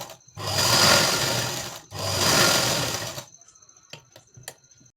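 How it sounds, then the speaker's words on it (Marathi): A sewing machine stitches tucks on a 42-inch chest blouse in two sustained, close whirring bursts of about a second and a half each, followed by a few light mechanical clicks. "पुढच्या साईडने टीप मारते मी."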